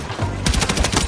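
Rapid automatic fire from a DRS IAR rifle in a video game, a loud, fast burst of evenly spaced shots that starts abruptly and runs without pause.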